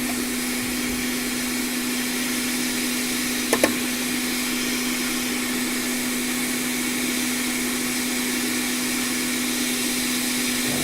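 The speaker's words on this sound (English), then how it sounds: "I'm going to aim the hot air away from this connector." A hot air rework station blows a steady, close whooshing hiss with a constant hum while desoldering a capacitor from a MacBook Pro logic board, interrupted once by a brief sharp click.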